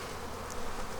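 A steady, close hum of honey bees buzzing at an open hive during a fall inspection, dense and continuous with no voices.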